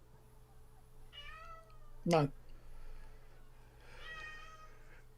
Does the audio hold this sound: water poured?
no